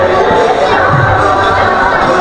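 A large crowd gathers by the river at the Kenjakura Muri Mela, a steady, dense murmur of many voices and scattered shouts, close and continuous throughout.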